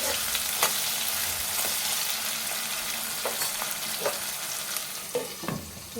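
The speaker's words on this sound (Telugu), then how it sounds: "ఆనియన్స్ పచ్చిమిర్చి అయితే వేగనివ్వాలి" Chopped onions and green chillies sizzle and fry in a pan for an aloo tomato curry, a loud, steady crackle with occasional scraping stirs, close up and without talking.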